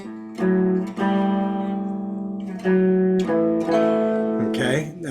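Guitar chords, presented as an A dominant seventh in a blues context, ring out in three separate sustained strums, each struck clearly and left to decay before the next.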